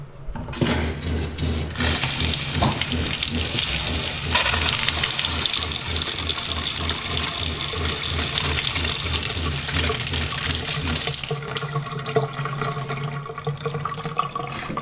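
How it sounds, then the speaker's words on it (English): Tap water gushes steadily into a sink in a homemade RV built from a 1977 Peterbilt 359, a loud continuous rush that runs for about eleven seconds before cutting off, leaving a quieter room. "So I turn the water on, it ought to be good to go."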